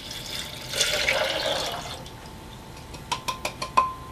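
Three cups of water poured into a container for making almond yogurt: a splashing pour for about a second, then a few sharp drips and small splashes.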